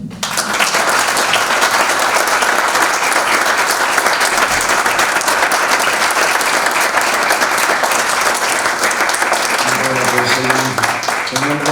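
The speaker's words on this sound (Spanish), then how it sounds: "quiero pedir un fuerte aplauso para Eduardo Rojo, Fernando Fernández, Ferna" Audience at a literary festival in Las Merindades giving loud, sustained applause, dense steady clapping throughout, with a voice starting to speak over it near the end.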